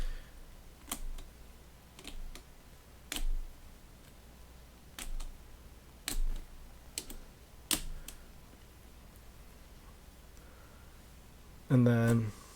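Keys clack on the keyboard of a Friden STW10 mechanical calculator, sharp separate presses at irregular intervals, capped by a heavier mechanical rattle near the end, with a low steady hum underneath.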